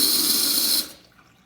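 Tap water rushes through a laboratory aspirator with a loud, steady hissing roar that cuts off abruptly, leaving a quiet fading tail.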